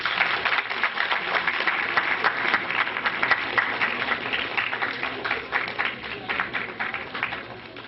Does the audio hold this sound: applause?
yes